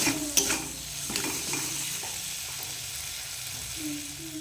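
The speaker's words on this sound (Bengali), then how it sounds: "এবার দিয়ে দেবো মটরশুঁটি। আর একটু ভালো করে কষে নেব।" Green peas sauté with a cooked spice paste in a pan, giving a low continuous sizzle with occasional spatula scrapes and light clinks of stirring, close and quiet.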